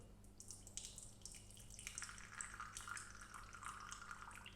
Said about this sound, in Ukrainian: Тепер одразу 30 мл кави я лью в чашку.